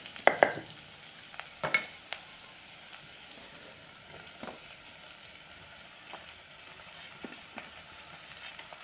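Sliced onion and grated coconut frying in a pan for a village-style chicken curry masala, with soft sizzling and a few sharp scrapes and clinks of stirring, fairly quiet.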